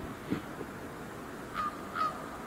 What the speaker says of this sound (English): No, that's a crow